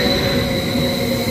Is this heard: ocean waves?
no